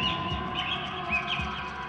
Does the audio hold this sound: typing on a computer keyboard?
no